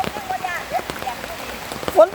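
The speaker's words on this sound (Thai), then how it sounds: "ฝนตกตกข้าเจ้าลุยกันขนาดเลย" Rain patters steadily over open ground during a mushroom-foraging trip in the Yasothon countryside of Thailand, a soft continuous hiss with a few voices talking faintly over it.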